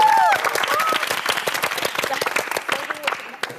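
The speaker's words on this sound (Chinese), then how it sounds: "掌声" A burst of studio audience applause and clapping fills the room during a Chinese workplace reality show, with voices calling out over it before it gradually fades.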